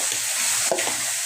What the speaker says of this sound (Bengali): মাছের মাথা ভাজা হয়ে যাচ্ছে